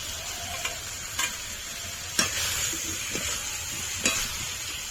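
Cauliflower frying with spices in a pan, a soft steady sizzle with occasional stirring scrapes and clicks, fairly quiet and without talk.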